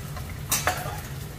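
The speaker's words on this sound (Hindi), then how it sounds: "तो ये घी में मैंने गोंद डाल दी है और इसे अच्छे से सेकना है थोड़ी देर तक" Edible gum (gond) roasting in ghee is stirred with a utensil: one or two soft scraping strokes sound against a low, steady frying hiss in a quiet kitchen, with no talking.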